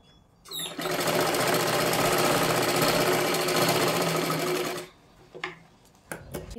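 Sewing machine stitching the side seams of a size-40 katori blouse runs in one steady, loud, even burst of about four seconds, then stops, leaving a few soft clicks and handling sounds.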